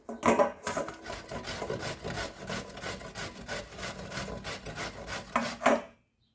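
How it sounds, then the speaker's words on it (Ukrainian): Zucchini being grated on a coarse grater in a home kitchen: steady, rhythmic rasping strokes, close and fairly loud, repeating for several seconds with no talk. "На таку крупну тертку я натру кабачок."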